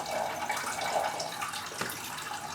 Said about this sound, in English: then we'll pour that through back into the saucepan